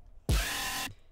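Xfer Serum scream synth patch with rising pitch automation, a single bright, gritty, buzzing note that hits hard with a low thump, holds for about half a second, then stops cleanly.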